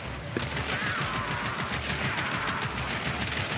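Rapid bursts of weapon gunfire from the Trumna in the video game Warframe, a dense, loud fusillade of shots fired continuously throughout, with no talking.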